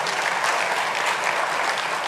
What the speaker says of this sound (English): deserves another resounding applause.